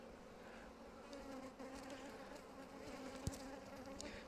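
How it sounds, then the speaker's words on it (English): Honeybees swarm over a brood frame during a hive inspection, giving a steady, close, low buzzing drone with a few faint clicks and no talking. "Here you can see two bees feeding each other."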